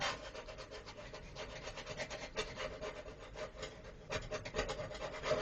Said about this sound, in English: wipe it down with a rag